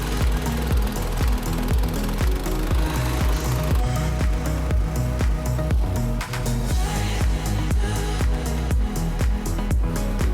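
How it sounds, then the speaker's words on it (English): A plate compactor pounds backfill behind a curved retaining wall, a loud, continuous rapid thudding with a rattling engine drone that stays close and steady throughout, no voices heard. "running over it with a plate compactor to make sure that that material is well compacted"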